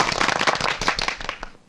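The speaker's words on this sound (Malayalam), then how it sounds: "എല്ലാവരും ഒന്ന് കൈയടിച്ച്." A dense burst of applause from a seated audience at a studio branch opening, many hands clapping loudly and close, then fading out toward the end.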